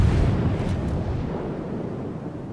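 Battleship main guns firing in World of Warships, a heavy booming blast that rolls on as a long, loud low rumble, with no voice over it.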